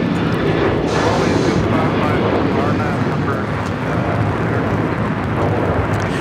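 An American Airlines Boeing 737-800 takes off from LAX bound for Chicago, its engines a steady, loud broadband roar that holds for the whole stretch without a break.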